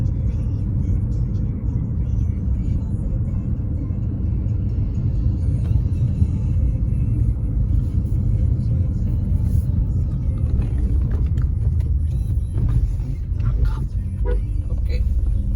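Maruti Suzuki Vitara Brezza fitted with a flat-bottom steering wheel cruising on a highway, steady low road rumble and engine drone throughout, with people talking over it.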